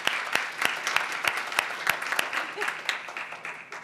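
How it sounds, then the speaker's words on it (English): A room of people at a school board meeting claps in applause, a dense patter of hands with sharp individual claps standing out, steady and moderately near throughout. "Let's please give Pam a round of applause for her efforts in coordinating this food drive."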